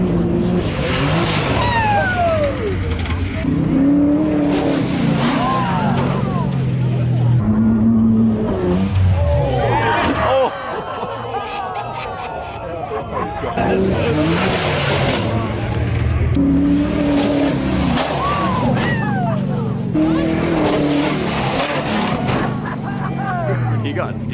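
An off-road truck engine revs and accelerates hard during a night trail run, loud and close with rising and falling pitch sweeps, over people talking nearby.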